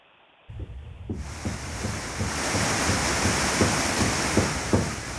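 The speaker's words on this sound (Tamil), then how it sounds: "இந்த கனமழையால் குற்றாலம் மெயின் அருவி, ஐந்தருவி, பழைய குற்றால அருவி உள்ளிட்ட அனைத்து அருவிகளிலும் வெள்ளப்பெருக்கு ஏற்பட்டு" Courtallam's falls, including the Main Falls, Five Falls and Old Courtallam Falls, in flood after heavy rain: a loud, steady roaring torrent of broadband water noise that swells in after a brief quiet start and keeps rushing without a break.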